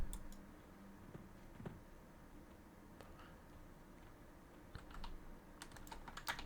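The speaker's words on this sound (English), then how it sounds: "I had to do some typing" Keys clatter on a computer keyboard in irregular bursts of quick clicks, close and fairly quiet, with a low background hum between the taps.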